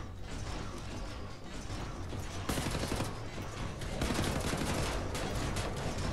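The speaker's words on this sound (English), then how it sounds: "I'm gonna get on the fucking turret and shoot the shit out of him." A mounted turret gun in Wolfenstein: The New Order fires in loud, dense, sustained bursts, the rapid shots blurring into a continuous mechanical roar that grows heavier partway through.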